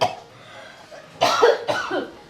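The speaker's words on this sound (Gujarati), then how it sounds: "બહુ ખાંસી આવે છે" Several harsh coughs in a home scene, a faint one near the start and then two loud, forceful bursts close by, with short quiet gaps between them.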